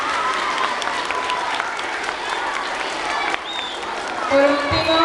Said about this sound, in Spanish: Aplausos fuertes a estos chiquitos.